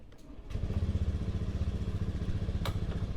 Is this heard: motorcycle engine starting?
yes